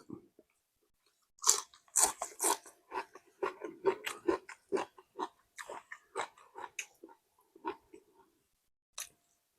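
Loud, close crunching and biting while eating a Khantoke meal, a northern Thai set of dishes served on a tray, with irregular bursts of chewing and brief pauses, no talking.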